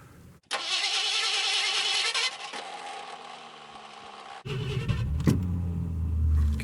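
An old 1981 Mercury Marquis with a flooded engine: its starter whirs and cranks steadily for several seconds, then the engine catches and settles into a low, rumbling idle.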